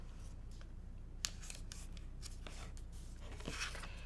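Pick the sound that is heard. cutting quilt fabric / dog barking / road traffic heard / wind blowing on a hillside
cutting quilt fabric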